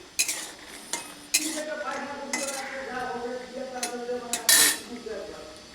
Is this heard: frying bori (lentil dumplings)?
yes